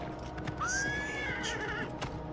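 A horse in the video game Oblivion Remastered whinnies in a long rising-and-falling neigh, loud and close, with faint clopping hooves around it.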